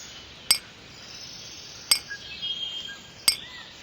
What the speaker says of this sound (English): oh no, we need to get rid of all that glass first.